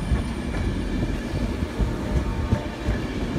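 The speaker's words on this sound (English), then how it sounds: "here comes GT Transport's worst nightmare. A class 185 at Transpennine." A Class 185 TransPennine train rolls past close by in York, a loud, continuous low rumble with rhythmic clacking of wheels over rail joints and a faint high whine on top.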